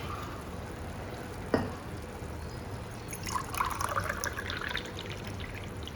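Water poured into a pot of soaked rice for tomato rice, a soft trickling and splashing that swells in the second half after a single knock, quiet and close with no speech.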